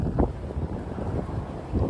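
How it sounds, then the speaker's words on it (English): Strong wind buffets the microphone outdoors in Miami, Florida, on the Saturday before Hurricane Ian, a steady low roar with gusty surges and no talk. "Man, it's crazy windy."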